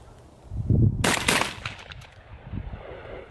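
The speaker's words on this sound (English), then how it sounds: "So I'm just gonna shoot two more rounds so you guys can check out the recoil." A Beretta A300 Ultima gas-operated shotgun fires at a range, two close loud reports in quick succession followed by fading echo and quieter handling noise.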